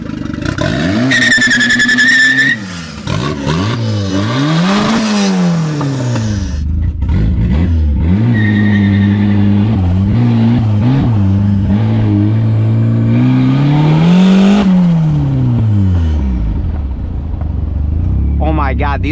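A turbocharged Mazda Miata driven hard on fresh oil revs up and down through the gears in repeated loud, close pulls, with tire noise and brief pauses between shifts, while people talk in the cabin over the engine.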